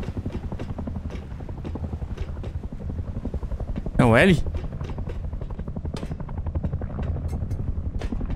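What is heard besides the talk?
helicopter flying in video game Rust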